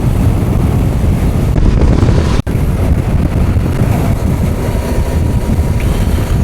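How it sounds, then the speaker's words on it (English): Constant buffeting wind roar on a microphone while riding a Voge DS 625X motorcycle, loud and low-pitched, with a single sharp click partway through. "It's a little bit windy. I hope the audio's all right."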